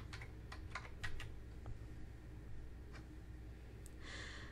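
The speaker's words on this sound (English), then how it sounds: "In the table name box, type music." A short burst of keystrokes on a computer keyboard, a handful of quick soft clicks in a row followed by one or two more, faint and close with nothing else going on.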